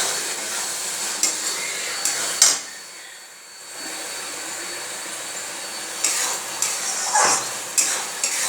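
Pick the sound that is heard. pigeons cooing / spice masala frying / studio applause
spice masala frying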